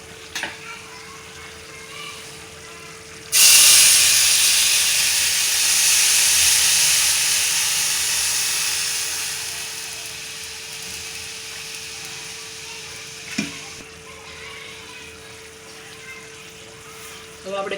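Milk poured into a pan of hot roasted vermicelli, bursting into a loud hissing sizzle that slowly fades over several seconds; a clank comes partway through, with quiet background before the pour.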